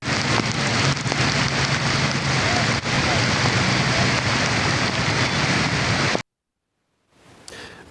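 Steady heavy rain pours down for about six seconds, a dense loud wash, then cuts abruptly to silence before a faint return near the end.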